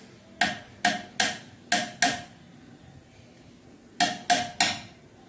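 Sharp pounding on a wooden TV cabinet with an improvised tool instead of a hammer: five strikes in an uneven rhythm, a pause, then three more quick blows, close and fairly loud.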